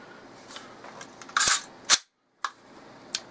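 An AR-15 rifle fires a handful of sharp, cracking shots outdoors, irregularly spaced over a few seconds, each a loud, abrupt report with a short fading tail and nobody talking.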